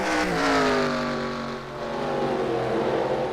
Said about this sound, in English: Gilbert's gonna come out of turn 4, and Elijah Gilbert will win here tonight at Oswego